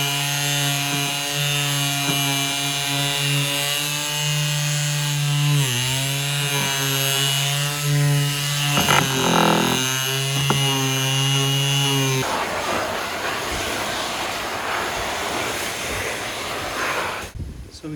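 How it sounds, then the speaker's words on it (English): A small hand sander works the edges of cumaru hardwood deck boards outdoors, giving a loud, steady buzzing whine with rubbing scrapes that roughens partway through, and a voice is heard briefly. "Got a small hand sander to do the edges."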